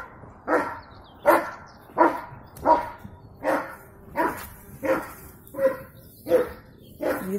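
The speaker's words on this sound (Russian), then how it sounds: "О, на Леру лает." A dog barks steadily at a medium distance in a Russian village, about ten evenly spaced barks in a row with no one talking.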